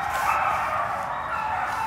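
Many beagles bred for laboratory research bark, yip and whimper together inside a barren concrete breeding shed, a steady dense chorus of voices with no pauses, heard from some distance.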